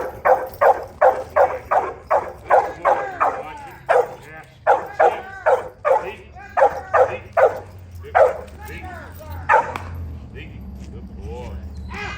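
Trained guard dogs bark in a rapid series of loud, close barks for about ten seconds. The barking then tapers into quieter yips under a steady low background hum.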